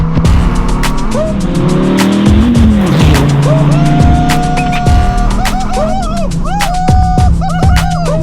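An LS-swapped Mazda Miata drift car accelerates hard, its loud V8 roaring up through the gears while the tires squeal in long rising and falling wails, all close and dominant.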